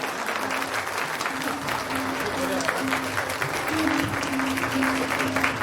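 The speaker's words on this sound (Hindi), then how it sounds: "जोरदार तालियां।" Loud sustained applause from a seated audience welcoming India's Minister of State for Defence at a professional chartered accountants' event, dense continuous clapping with a faint tonal hum beneath.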